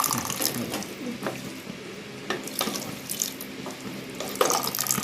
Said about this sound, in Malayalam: അപ്പം അതിനനുസരിച്ചുള്ള വെള്ളം ഒഴിക്കുക.